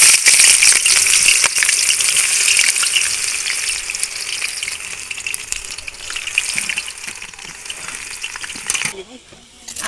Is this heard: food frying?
yes